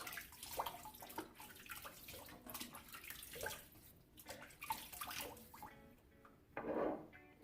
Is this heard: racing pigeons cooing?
no